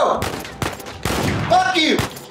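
Rapid bursts of gunfire from the video game Uncharted 4, with repeated loud shots and automatic fire over about two seconds, mixed with game sounds and a voice talking underneath.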